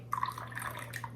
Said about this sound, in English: Just one little splash.